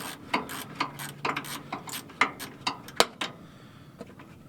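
A hand ratchet removes frame bolts on a 1987 Chevy R10 pickup with close, irregular clicking bursts in quick runs, then pauses and a few last clicks near the end.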